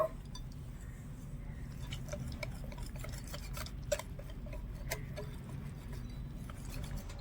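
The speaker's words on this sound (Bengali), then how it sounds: "ভালো করে মিশিয়ে নেব" A spoon mixes pitha batter made with water in a bowl, producing quiet, steady stirring with light clinks against the bowl and one sharper knock midway.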